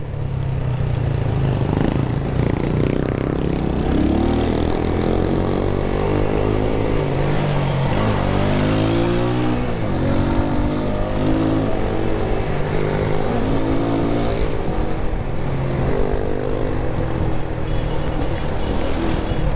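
A motorcycle on a morning ride to work in Jamaica, with no back brake, roars loud and close the whole time, its engine pitch climbing and falling through repeated revs and gear changes.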